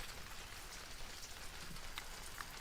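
Steady rain falls outdoors on a windy day near a high tide, a dense, even hiss of drops striking surfaces with no voices present.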